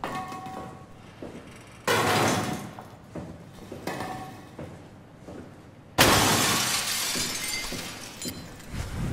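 Glass shatters in the SOMA horror game, with two loud, sharp breaking bursts a few seconds apart over an eerie underwater-station ambience; the second crash is the bigger one and rings out longer.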